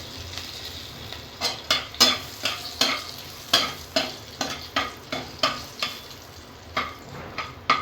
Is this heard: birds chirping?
no